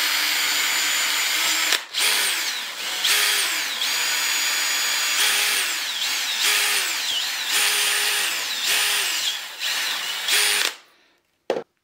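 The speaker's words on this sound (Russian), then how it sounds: "Для следующей самоделки в двух крышках нужно просверлить отверстие." A power drill bores holes through plastic bottle caps, a loud whining motor rising and dipping in pitch over several short bursts as the bit bites in, ending with a brief stop.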